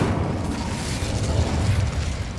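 Incendio fire spell cast in the video game Hogwarts Legacy, a sustained roaring burst of flame that stays loud and dense throughout with no pauses.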